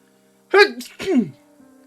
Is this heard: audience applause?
no